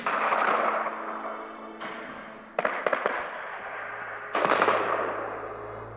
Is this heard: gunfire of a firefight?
yes